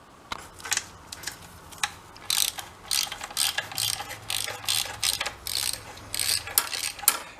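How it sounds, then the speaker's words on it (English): A ratchet wrench loosens bolts on a Yamaha Enduro 360 engine during teardown. Its rapid clicking comes in repeated bursts, close and fairly loud, with no talking. "let's just get it unbolted for now"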